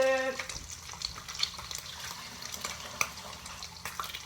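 Tap water runs steadily into a kitchen sink while a tomato is rinsed, a soft continuous splashing with a few small clinks, fairly quiet and close.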